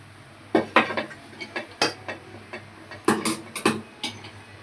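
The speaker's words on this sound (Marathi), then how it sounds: "आता आपण तवा उतरून कढई ठेवूया." A griddle being lifted off the stove and a kadhai set down in its place, giving a string of close metallic clanks and knocks of varying loudness, with no talking.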